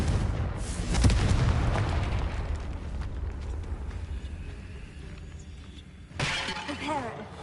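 A Confringo blasting spell goes off in Hogwarts Legacy as a loud crashing boom with a shattering burst near the start, a rumbling tail, then a second sharp blast near the end under game music.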